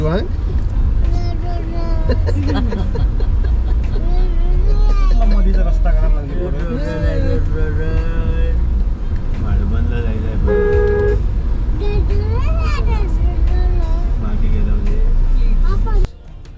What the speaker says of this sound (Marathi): शिवांगला तर आपण आता पिकअप केलंय आणि समोर दिसतंय ते traffic because of road making process and repairing process